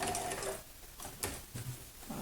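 A sewing machine running during free motion quilting, its needle stitching in short, rapid mechanical bursts with brief pauses and clicks between runs, close and fairly quiet, no voices.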